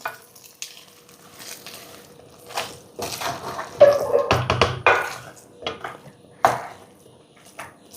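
Pumpkin and bean erissery with roasted coconut, an Onam sadya dish, is stirred in a pan, making intermittent scraping and soft sizzling bursts that are loudest midway, with no talking.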